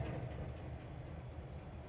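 A train in the Trainz 2022 railway simulator creeps slowly forward, giving a steady low rumble of rolling stock at an even level throughout, with no talking over it.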